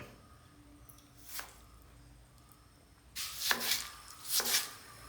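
A knife chops two large tomatoes into small pieces for a Kerala chilli fish curry: one soft cut, a pause, then a quick cluster of three or four close chopping strikes on the board.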